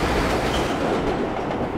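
New York subway train running in World of Subways, a steady close rumble of wheels on track with a faint rhythmic rattle, continuous with no talking.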